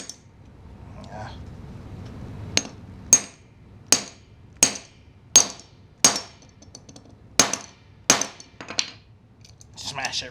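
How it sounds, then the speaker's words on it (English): A hammer strikes down on wire about ten times in a slow, uneven rhythm, each blow a sharp close-up metallic clink against a quiet background. "I put it in there and I just hammer it down real good."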